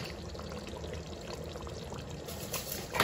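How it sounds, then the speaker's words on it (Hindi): A teaspoon of kewra water poured into simmering chicken korma, a short, steady close pour of liquid over about three seconds, with a faint splash at the end and no talk. "तो 1 टीस्पून हम केवड़ा वाटर डाल रहे हैं"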